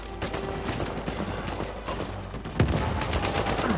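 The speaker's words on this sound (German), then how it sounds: "hier wird wild geballert gerade." Gunfire from the video game Uncharted 4 sounds as a dense, continuous volley of rapid shots with a louder burst near the end.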